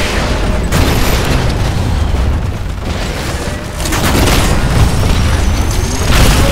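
In Titanfall, a Nuke Titan detonates at the harvester: a loud, rumbling boom with a roaring blast that surges, eases, then swells again.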